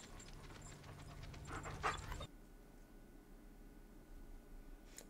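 A dog heading toward a cave in a post-apocalyptic wasteland, panting rapidly and faintly for about two seconds before the sound cuts to quiet ambience.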